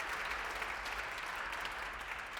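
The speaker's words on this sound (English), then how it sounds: "clap it up for Jazz House Kids" Audience at a Jazz at One concert in Trinity Church, New York, clapping for Jazz House Kids: steady, even applause from a crowd, heard somewhat distant and sustained throughout.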